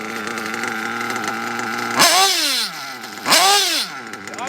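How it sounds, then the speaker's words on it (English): A nitro RC engine being tuned idles with a buzzing drone, then revs sharply twice, each rise and fall sweeping through the RPM range, loud and close with no voice over it. "really slow on the throttle and slowly accelerate all the way through the RPM range"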